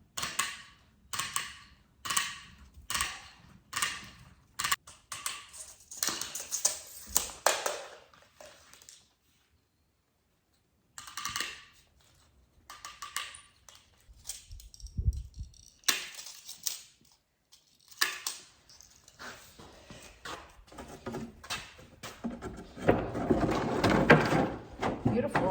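Hardware cloth being cut with snips for a raised planter box, a run of crisp metallic clips in quick bursts with pauses between, close and clear, with a little handling noise.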